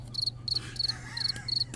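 A crickets chirping sound effect gives five short, evenly spaced bursts of shrill trilling, moderately loud, with no voices.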